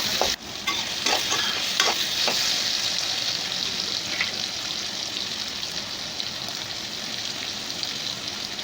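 Tomatoes fry lightly in a pan for a pasta masala, giving a steady close sizzle broken by a few scraping stirs early on, with no talking.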